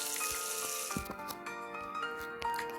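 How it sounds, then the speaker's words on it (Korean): Steady crackling sizzle of hotteok frying on a griddle in a video game, continuous and fairly close, with a few brighter clicks and pops scattered through it. "근데 소리가 지글지글하니까 뭔가 좀 좋지 않음?"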